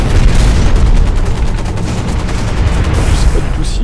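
Rapid, loud gunfire rattles almost without pause through a mech battle in the video game Hawken, a dense fusillade of bursts filling the whole stretch with no gaps.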